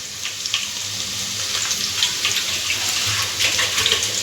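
Ghee and ginger-garlic paste frying in a pan, giving a steady, close, continuous sizzle with faint crackles and no voices over it.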